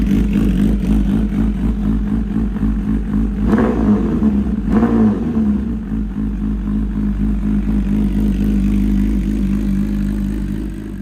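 A Brutale 1000RR naked motorcycle over 1000cc revs and accelerates hard, its engine a loud, steady drone with two sharp throttle blips partway through.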